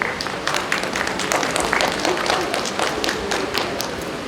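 A hall audience applauds after a speech at an event, giving a dense, continuous patter of many hands clapping at an even level for a few seconds.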